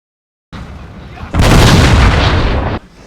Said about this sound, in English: The battle began with a huge artillery bombardment.